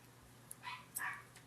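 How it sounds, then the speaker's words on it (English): Dogs bark indoors a few times, short and slightly distant, over a quiet room hum, with no talking during the barks. "My dogs are barking."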